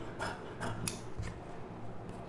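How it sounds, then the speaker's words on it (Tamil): Scissors snip through silk cotton fabric while cutting a blouse sleeve, giving several short crisp cuts in an irregular rhythm, close and fairly quiet, with no talking. "இப்போ வந்து இந்த ஸ்லீவை கட் பண்ணிக்கலாம்."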